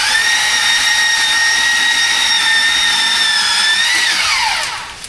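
A high, steady motorized whine with strong harmonics runs nearly unbroken, then drops in pitch and fades at the end, as a power saw cuts tree branches.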